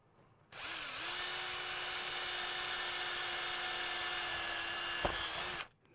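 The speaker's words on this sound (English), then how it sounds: "Okay, drill a hole." A power drill bores a hole while a workshop blast gate is being installed. The motor spins up, holds a steady high whine for about five seconds with a brief knock near the end, then stops.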